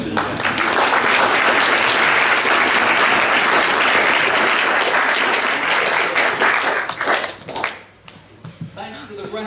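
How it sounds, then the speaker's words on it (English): Wedding guests applaud the ushers during the reception speeches, a loud, dense burst of clapping that holds steady for about seven seconds and then breaks into scattered claps, with voices murmuring in the room. "Let's clap the ushers."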